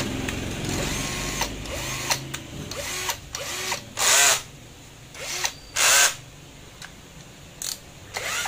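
Bosch GSR1800Li cordless drill running on a new battery, short whirring bursts with two longer, louder high-pitched runs and several brief clicks and trigger pulses between them, no voices.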